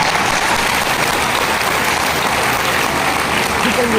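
An audience in a hall claps steadily throughout, a dense, even wash of applause at full volume from start to finish.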